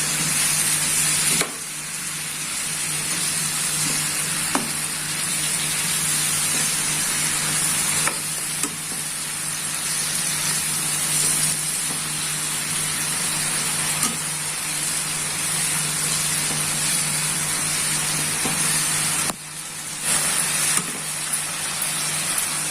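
Vegetables for a soya chunks sabzi stir-fried in a pan over a high flame, a steady close sizzle with occasional scraping stirs, continuous with no talking.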